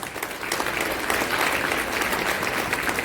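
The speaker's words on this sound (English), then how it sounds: "Please give her a big round of applause." A dinner-hall audience at an annual community dinner in Chicago claps in a dense, sustained round of applause that fills the room evenly from start to finish.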